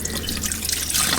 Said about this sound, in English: literally stick my head under the tap for this one